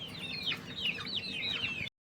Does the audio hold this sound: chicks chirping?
yes